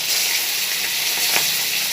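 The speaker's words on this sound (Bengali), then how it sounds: "আর আমি চিকেনগুলো এক এক করে কিন্তু এবার ভেজে নেব।" Chicken pieces frying in butter, a loud continuous close sizzle with a faint stirring scrape, no voices.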